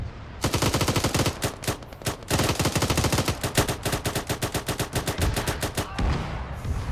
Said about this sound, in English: Artillery landing on us.